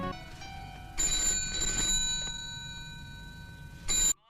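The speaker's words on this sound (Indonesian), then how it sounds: "Telepon berdering" A telephone rings in a room in a 1988 Hong Kong film scene, bright electronic trilling bursts with steady tones between them, the last short burst cutting off abruptly.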